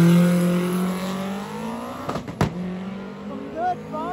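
A Camaro making a drag racing pass at a Carolina drag cruise event, its engine roaring and then fading with a sharp pop partway through, heard under a commentator's talk.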